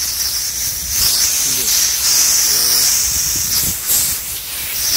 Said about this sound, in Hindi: एचपी और एलपी दोनों लीड से ही प्रेशर रिलीज हो रहा है